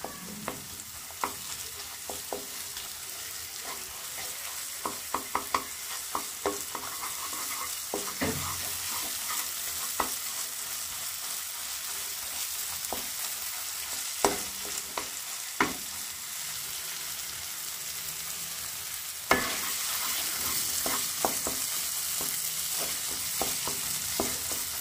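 Spices frying in oil for palak chicken, a steady close sizzle with scattered stirring clicks and scrapes throughout, alone without talk.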